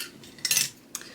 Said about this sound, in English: gonna just take the scissors and start cutting.